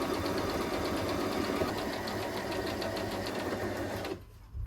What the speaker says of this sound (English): And sew along that edge